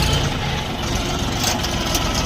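The engine of a Bulat 244 mini tractor idles with a steady, close, low rumble and a slight knocking texture, continuous and without talk.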